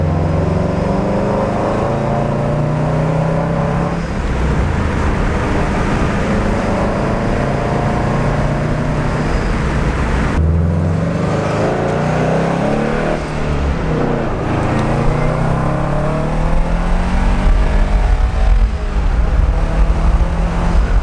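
A 2011 Subaru STI fitted with an aftermarket Invidia exhaust runs at night, its steady, close engine rumble rising and falling through several revs over about twenty seconds with no talking.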